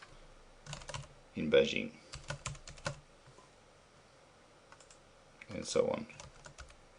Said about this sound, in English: we're just going to type in a few countries that might win the gold medal